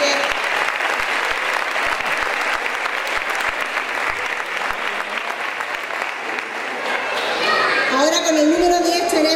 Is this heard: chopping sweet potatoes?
no